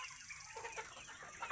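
Caged chickens cluck faintly for a moment, a soft, brief sound that stands alone without speech.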